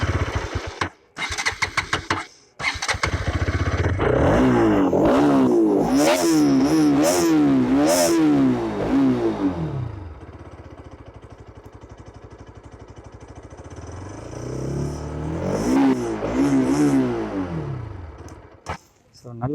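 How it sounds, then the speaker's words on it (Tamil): A Bajaj RS200 motorcycle engine cranks and fires, then revs up and down in several loud, close bursts before settling to a low idle and revving once more near the end. "வண்டி ஸ்டார்ட் பண்ணி பார்த்துக்கலாம் அதோட பீட் எப்படி இருக்குன்ட்டு."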